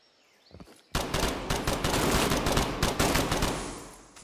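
M16 rifle gunfire in the video game Incursion: Red River, a loud, dense run of rapid shots after a brief lull, close and continuous for several seconds.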